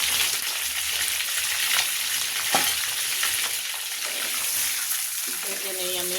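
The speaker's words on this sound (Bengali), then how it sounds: "তেলটা গরম হয়েছে, এখন আমি এটাকে আস্তে আস্তে ছেড়ে দিচ্ছি।" Eggs, salted, being lowered into hot oil to fry for an egg malai curry: a continuous, moderately loud sizzle with occasional sharp pops and crackles, steady throughout.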